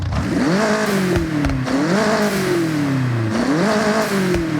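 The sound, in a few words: race car exhaust revving, video game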